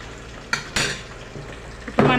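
Ground gongura paste going into a hot frying pan for an Andhra-style crab curry, with a steady sizzle and a few sharp scrapes and clatters of stirring, close by with no talk.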